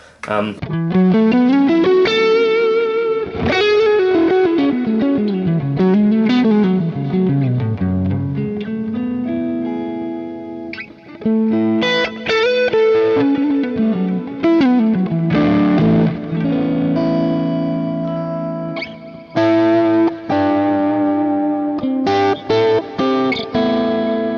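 An electric guitar runs through a Hotone Ampero Stomp's Trainwreck amp preset into a Marshall cab with Ambience 2 and reverb, playing a long, driven, overdriven lick of single notes and chords with a roomy tail, loud and continuous.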